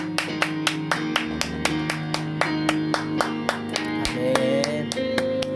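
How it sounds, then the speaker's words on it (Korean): A church congregation claps together during a Korean worship service, a steady rhythmic beat of loud, close hand claps over sustained organ or keyboard music and voices. "오늘도 저와 여러분들에게 말씀하여 주시고 그 말씀대로 살아갈 수 있도록 힘주시고 은혜주시고 능력 주시는 주님께 우리 감사의 박수 드리겠습니다."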